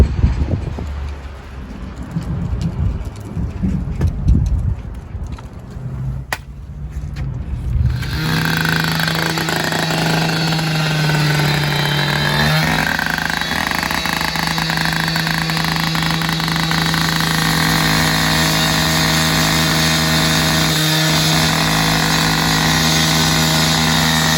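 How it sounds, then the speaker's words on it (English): A gas-powered saw for cutting a residential asphalt driveway is heard first as clattering handling noise. It then starts up into a loud, steady engine drone with a humming whine that carries on to the end. "I'm going to begin saw cutting"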